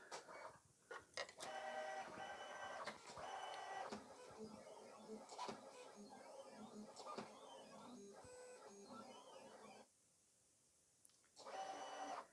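A Silhouette Cameo 5 vinyl cutting machine runs a cutting job, giving off a quiet, steady mechanical whir with repeated clicks and shuttling movements, briefly pausing before starting again, with a voice speaking now and then.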